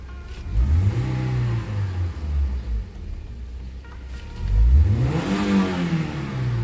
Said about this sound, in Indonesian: Setelah tune up, pasang busi, kita langsung hidupin.